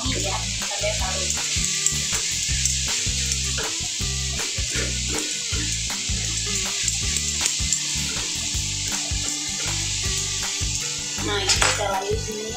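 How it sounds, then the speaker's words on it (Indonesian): Ingredients for a Taiwanese-style tom yum are stir-fried in a hot pan, giving a steady, close sizzle with repeated clinks and scrapes of a utensil stirring against the pan throughout. "Pokoknya oseng-oseng sampai wangi ya, sampai harum."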